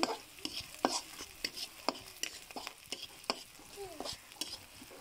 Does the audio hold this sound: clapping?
no